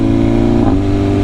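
A 2025 BMW S1000RR superbike engine roars loud and close in a single continuous snarl, with a brief rev blip on a downshift partway through.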